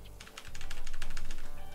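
Rapid, evenly spaced keystrokes on a computer keyboard, a quick run of about a dozen close clicks that grows slightly louder partway through, with no talking.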